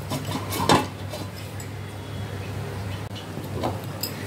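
A single metallic clank of a lid set onto a pot of lentil dumpling curry, followed by quiet kitchen background and a faint later clink.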